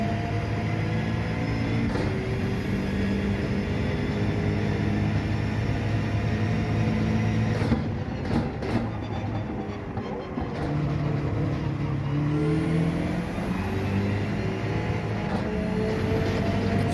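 A BLZ car's engine approaches from behind in a racing video game, blending into a continuous loud engine drone that shifts in pitch as the cars race close together.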